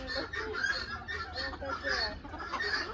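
Chickens cluck and chatter continuously at a fowl farm in Udon, several birds close by with overlapping calls and a faint background murmur.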